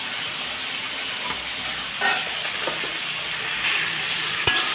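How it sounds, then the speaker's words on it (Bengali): Onions with chopped ginger being stirred and fried until browned in a pan, a steady sizzle with occasional scraping stirs and a sharp clink near the end. "পেঁয়াজটাকে ভালোভাবে একটু নাড়াচাড়া করে লাল করে নিচ্ছি"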